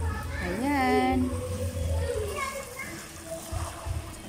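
People swim and splash in a warm-water pool at a hot spring resort in Pansol, Laguna, with soft sloshing and splashes of water under loud nearby talking and a voice.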